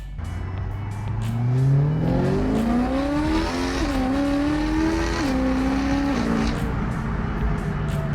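A BMW accelerates hard on a test drive after a motor mount repair, its engine note climbing steadily through the gears with brief dips at each shift, loud and close throughout.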